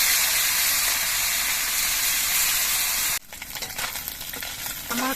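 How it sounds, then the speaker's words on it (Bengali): Small Ganges mourala fish fry in oil in a wok with a loud, dense sizzle for about three seconds, then the sizzle drops to a softer, crackling spit with a few stirring scrapes. "বাকি মাছগুলো ভেজে নিচ্ছি"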